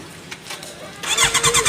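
A Kawasaki motorcycle engine starts after a quieter stretch of background noise, then fires into a loud, pulsing idle with rhythmic throbs and a rising whine.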